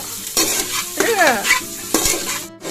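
Onions frying in oil are stirred vigorously in a pan, with scraping strokes over a steady sizzle, several distinct stirring passes close up.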